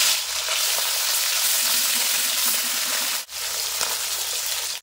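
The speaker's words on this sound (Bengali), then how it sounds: "তো একইভাবে বাকি মাছগুলো কিন্তু ভেজে নেব।" Small fresh river fish frying in oil give a loud, steady, close hiss and crackle that briefly drops out once before resuming, with no voices.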